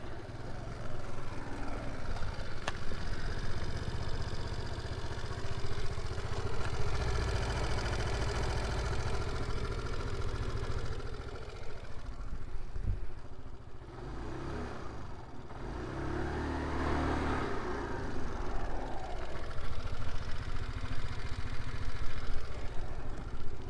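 An Aprilia SXR 160 fuel-injected BS6 scooter idles with a low, steady engine drone and exhaust note, with slight changes in pitch as the throttle eases in and out.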